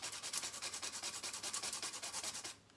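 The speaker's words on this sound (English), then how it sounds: "I like to grate fresh nutmeg" Fresh whole nutmeg scraped on a grater for hot cross buns: a quick, steady run of about twenty soft rasping strokes, close and fairly quiet, stopping abruptly at the end.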